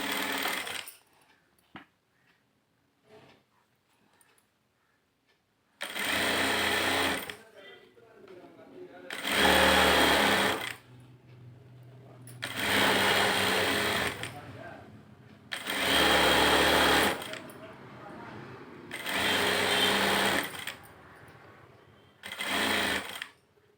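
Sewing machine running in six loud bursts of stitching along a saree edge while hemming before attaching the falls, each burst lasting a second or two with quiet pauses between, after a stretch of faint handling noise.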